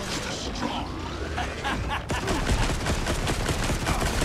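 Rapid bursts of gunfire in the video game Cyberpunk 2077, loud and dense, with a sharp crack partway through followed by sustained automatic fire over game music and effects.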